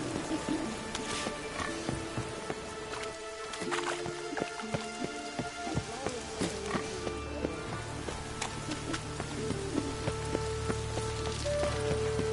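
Rain falls on a surface in The Witcher game world as a steady, dense patter of drops, with scattered faint tonal sounds and clicks in the background and no voices.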